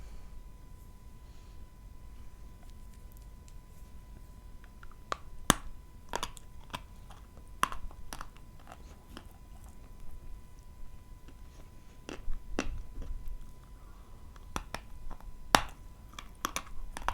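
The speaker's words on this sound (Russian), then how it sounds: "откусим от всех кусочков, похрустим" Pieces of Kyrgyz 2-in-1 edible clay bitten and crunched up close, with sharp isolated cracks and crunches scattered irregularly over soft chewing in a quiet room.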